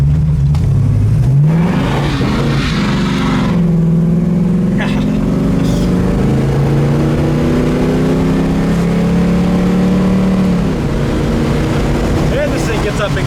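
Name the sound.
1965 Ford Mustang Fastback accelerating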